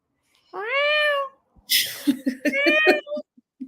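A cat meows loudly and close by in one long, drawn-out call. Breathy, laugh-like noises follow, then a second, shorter meow.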